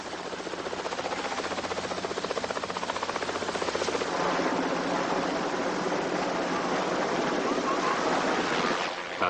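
Helicopter rotor thumping steadily with a rapid rhythmic chop under a broad whooshing wash, close and continuous throughout, swelling slightly midway before a brief bump at the end.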